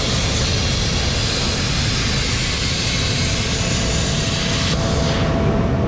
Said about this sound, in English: It's another plasma that we use. We use it for a lot of stainless